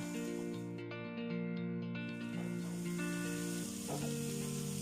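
Onion, chile, garlic and corn kernels frying in a pan for calabacitas a la mexicana, a steady close sizzle under sustained tonal background music, with no voices.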